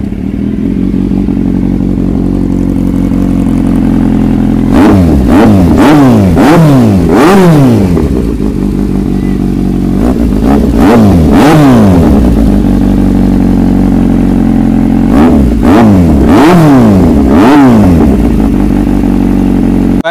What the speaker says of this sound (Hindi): इसकी आवाज़ सुनिए आप